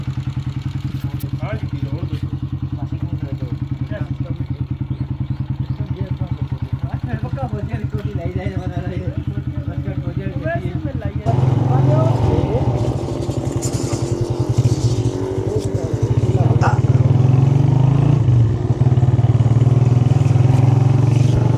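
A motorbike carrying two riders travels along, its engine a steady mid-pitched drone with clattering road noise that grows louder in the second half as it accelerates, with people talking over it.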